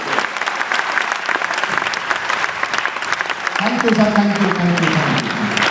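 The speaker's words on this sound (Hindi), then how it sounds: "उसके लिए जोरदार तालियां बनती हैं" Loud, dense applause from an audience at a wellness company's second anniversary event in Patna, continuous and close, while someone speaks over it and says thanks.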